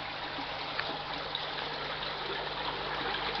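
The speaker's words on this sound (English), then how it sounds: "It was one of the bell siphons now just starting to work." Water pours steadily from a working aquaponics bell siphon, a continuous close rushing trickle with a few faint clicks and a low hum underneath.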